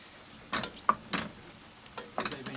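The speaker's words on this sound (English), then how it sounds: "Give them a good stir around so that they all get coated in the garlic and the butter" Mushrooms are stirred in a pan with garlic and butter, a handful of quiet scraping sweeps with soft sizzling between them. The sound is close and gentle, with no talk.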